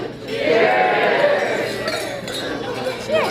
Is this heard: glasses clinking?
yes